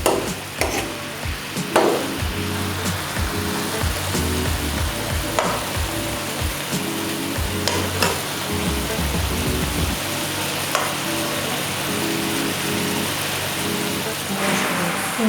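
Thin slices of beef steak frying and being stirred in a pan, a steady sizzle under repeated scraping and clattering strokes, with a low engine-like hum in the background; no talking.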